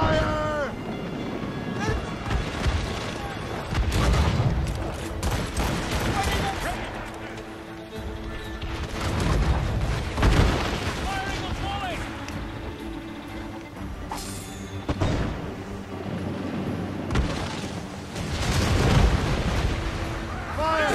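Ship cannons fire during a naval battle in Assassin's Creed Rogue, repeated heavy booms rolling out over constant sea and wind noise, with shouting voices throughout.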